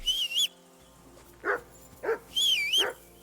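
Dog barking in the medieval game Kingdom Come: Deliverance II: several sharp, close barks and yelps in an uneven burst, with a high whine or whistle-like tone at the start and again midway.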